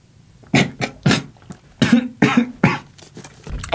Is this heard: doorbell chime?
no